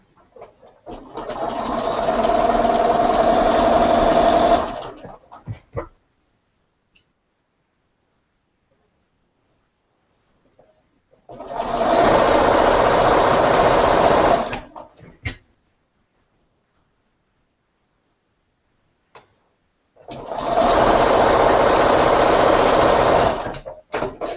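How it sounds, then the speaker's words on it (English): A sewing machine stitches quilt square pieces together in three steady whirring bursts of several seconds each, close and loud, with near silence and faint clicks in between. "now I'm just going to sew them together."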